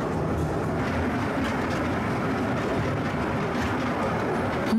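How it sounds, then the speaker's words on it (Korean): Nami Island tourist train running on its rails across the island, a steady rumbling roar with faint clatter throughout, close and continuous. "평소보다 좀 한산한 열차를 타고 출발합니다."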